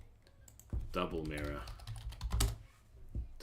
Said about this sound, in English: so let's just start typing.